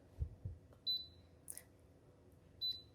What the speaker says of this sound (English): we're going to press on right here, hear a nice little beep